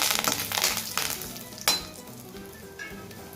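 Urad dal, red chillies and curry leaves spluttering and crackling in hot oil, with steady close sizzling broken by sharp pops and a brief clink of a utensil against the pan.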